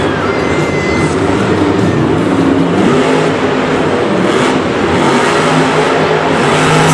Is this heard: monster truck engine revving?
yes